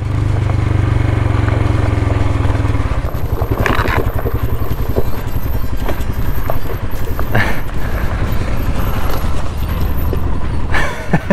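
Honda Africa Twin motorcycles riding past on an Alpine road, heard as a loud steady engine drone with wind rumble close to the listener.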